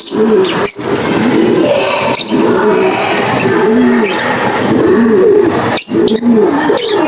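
Racing pigeons coo repeatedly in low, rolling phrases at close range, overlapping one another in a steady chorus, with a few brief sharp chirps scattered through.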